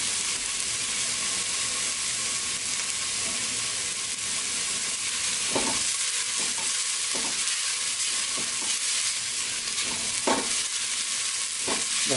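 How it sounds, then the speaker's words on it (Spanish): Onion fries in a pan, turning translucent, with a steady loud sizzle filling the whole stretch and a few soft stirring scrapes breaking through now and then. "La cebolla se está transparentando ya."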